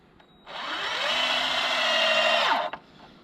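A power drill drives a screw into a wooden beam fixed to a post while building a backyard mountain bike drop, a steady loud whine holding for about two seconds, rising slightly in pitch, then cutting off abruptly.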